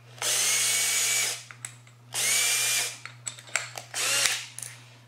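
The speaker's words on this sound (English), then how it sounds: "we're going to need to drill a hole in this plate that we can work through" A power drill whines in three bursts into a metal plate, each lasting about a second, with clicks and small knocks between runs.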